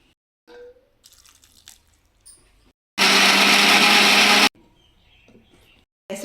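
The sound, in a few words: mixer grinder grinding spice masala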